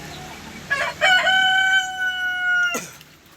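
An Australorp rooster lets out a single loud, close crow, a drawn-out cock-a-doodle-doo of a few seconds that ends sharply, heard against faint background farm noise.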